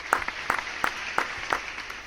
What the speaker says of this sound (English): let's give a round of applause for Kano